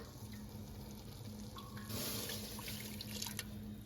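Liquid ladled into risotto rice with mushrooms, a brief watery pour near the middle over a steady low background hum, faint and close.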